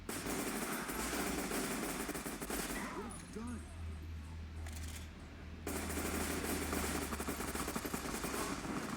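Automatic gunfire rattles almost continuously in the video game Fallout New Vegas, loud and dense, with a low rumble beneath and a short lull in the middle before the firing resumes.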